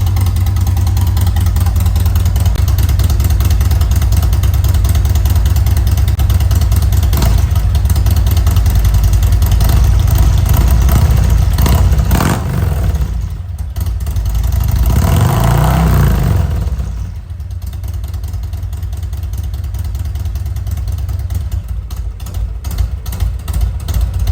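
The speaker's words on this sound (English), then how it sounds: "so we let the bike run" Harley-Davidson Road Glide with an M8 engine idling steadily, a loud, deep, rumbling throb that stays constant for the whole stretch, with a brief rise and swell partway through, close by and with no speech.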